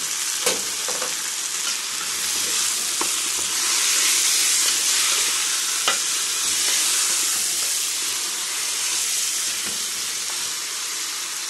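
Rooster meat sautés with onion, bell pepper and onion skins in a pan over medium heat, giving a loud, continuous close sizzle with scattered pops and crackles throughout.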